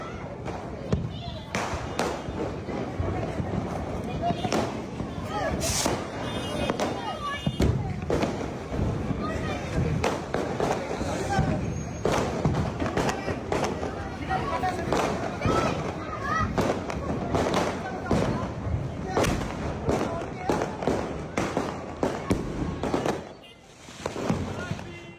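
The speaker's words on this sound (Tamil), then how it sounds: "எல்லாரும் வெடியை சேஃப்டியா வெடிங்க" Rapid, irregular bursts of firecrackers crackle and pop continuously, loud and close, with brief pauses and voices underneath.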